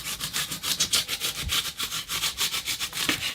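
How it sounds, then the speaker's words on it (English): A serrated bread knife saws back and forth through foam insulation in a plant room, making steady, rhythmic scratchy rasps, roughly three strokes per second, close and unaccompanied by talk. "I'm going to come in now and trim off my foam. Just like that with a serrated bread knife."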